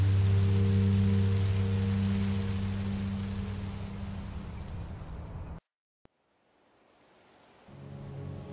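Rain falls in the video game Minecraft Story Mode, a steady hiss of rainfall over low droning tones that fades, cuts to near silence briefly, then returns more softly.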